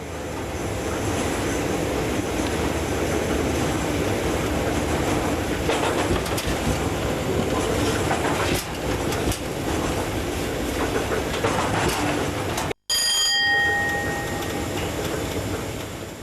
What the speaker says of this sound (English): the train takes the route towards Ulsby Junction